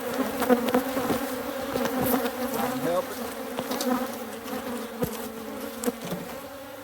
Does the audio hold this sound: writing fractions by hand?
no